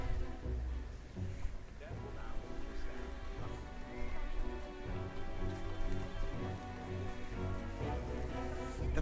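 Steady rain pattering on a surface, a continuous dense hiss with scattered drops, fairly close and unbroken throughout.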